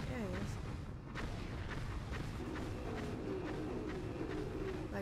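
Lava gun firing in a Ratchet and Clank video game, a dense stream of rapid blasts and crackling booms over game music, with people talking throughout.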